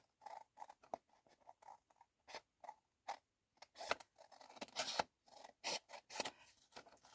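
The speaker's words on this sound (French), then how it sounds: "je reprends mes ciseaux et je recoupe" Crisp scissor snips cutting paper, a rapid series of short clips with brief pauses, close by and fairly quiet, no talking.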